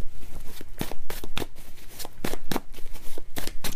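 Tarot cards being shuffled for a reading, a rapid run of papery riffles and slaps in uneven bursts, close and fairly loud, with no one talking.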